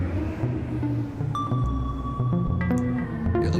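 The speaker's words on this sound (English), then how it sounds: "we can have it sample and hold, which would be quite weird" Sustained synth tones and a drone wash through reverb with sample-and-hold modulation, its space seeming to shift in sudden steps, with new tonal layers entering partway through.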